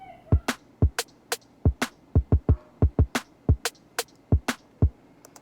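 A programmed trap beat built in Soundtrap, with loud punchy kicks and sharp snare or clap hits in a repeating rhythmic pattern, heard up front with no talking.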